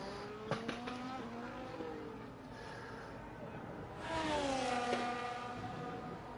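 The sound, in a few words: F1 race car driving on track in racing video game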